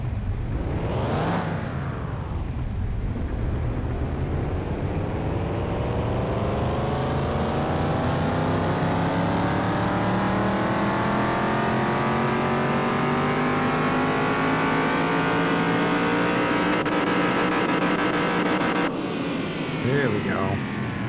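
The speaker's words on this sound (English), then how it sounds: "Go ahead and start a dyno test." A Dodge Charger engine in Car Mechanic Simulator 2021 revs on a dyno test, a quick blip and then a long continuous climb in pitch through the gears, loud and steady, ending abruptly.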